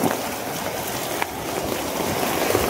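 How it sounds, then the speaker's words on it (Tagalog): Steady rain falls outdoors, a dense continuous hiss of drops with light wind, fairly loud and with no voices. "Inaabot na kami ng ulan."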